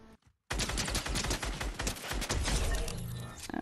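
Rapid gunfire from a twin mag pistol in a video game, a dense, loud burst of continuous shots after a brief quiet start, sustained for several seconds.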